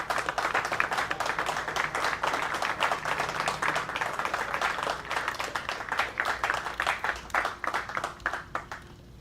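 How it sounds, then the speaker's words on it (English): An audience applauds the Marines and sailors at a Marine Corps officer graduation ceremony. The clapping is dense and sustained and thins toward the end into scattered claps. "please join me in a round of applause for these Marines and sailors"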